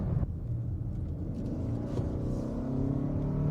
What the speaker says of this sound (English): one thing that is annoying with these hybrids, particularly this one, is the buzzy noisiness